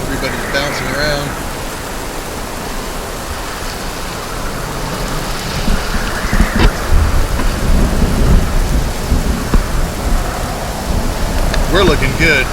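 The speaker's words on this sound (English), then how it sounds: "Now we got some thunder and lightning." Thunder rumbles through heavy rain and wind at a dock aboard a heeled-over Tartan 39 sailboat, broadband storm noise steady throughout with louder rolling bursts in the second half.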